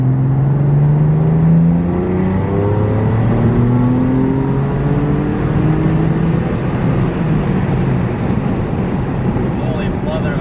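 A BMW F80 M3 fitted with stage 2+ turbos pulls hard from a rolling start, its engine note climbing steadily in pitch over heavy wind and road roar, heard from inside the car with voices faint underneath.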